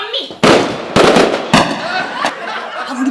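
Several loud sharp bangs from fireworks or firecrackers going off in quick succession, close and crackling, each trailing into a noisy decay.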